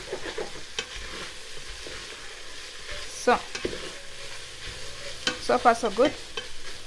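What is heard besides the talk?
garlic sizzling while frying in a pan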